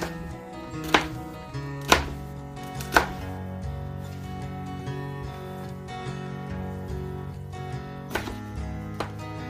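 A knife slicing sweet peppers on a cutting board, three sharp distinct chops near the start, then softer intermittent cuts, with quiet background hum.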